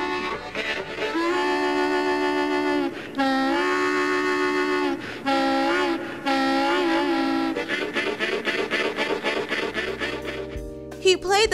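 A blues harmonica in the style of DeFord Bailey mimics a moving train, with long sustained wailing chords that bend like a whistle, then quick rhythmic chugging puffs near the end, loud and close.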